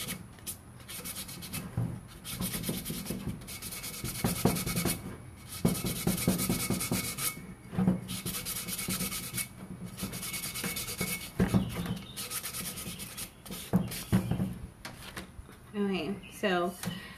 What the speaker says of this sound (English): I'm still using the 220 grit sandpaper on this.